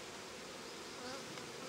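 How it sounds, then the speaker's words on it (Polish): A swarm of Carniolan honey bees, freshly caught and being combined into a hive, gives a steady, quiet, continuous buzzing hum with no voices. "Tylko jest ta pszczoła taka, o, widać, że krajanka, nie?"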